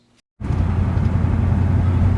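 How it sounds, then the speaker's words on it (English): A rally car is driven on a fall day to bed in new brakes, its engine and road noise starting abruptly and holding a loud, steady low drone close by. "So it's a nice fall day, and I'm out for a drive bedding the brakes."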